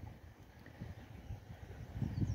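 Gusty wind rushes steadily through a banana plantation on a farm plot, a low rumbling buffeting that swells louder toward the end, with no voices present.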